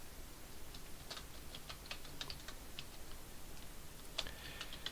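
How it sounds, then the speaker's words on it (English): Light typing on a computer keyboard while entering spreadsheet labels, a faint scattered run of soft key clicks at an uneven pace with no voices. "entering text as labels just by typing on the keyboard"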